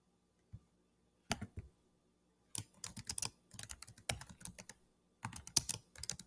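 Essay title being typed on a computer keyboard, with short bursts of quick, soft key clicks separated by pauses, close and quiet with no talking.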